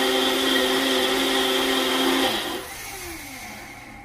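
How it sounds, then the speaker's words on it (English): A Ninja blender whirs loudly at high speed through thick butternut squash soup, then winds down and stops near the end, leaving a fading motor hum. "we're going to blend this last batch of soup on our Ninja"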